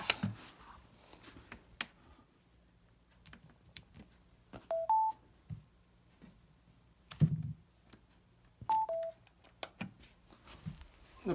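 Two short pairs of electronic two-tone beeps sound several seconds apart against a quiet background, with a few faint clicks and taps in between.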